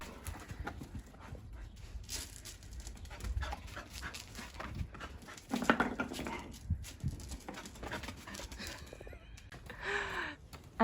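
Dogs panting beside their small backyard pool, quick rhythmic breaths mixed with soft shuffles and brief louder bursts, close by and fairly quiet throughout.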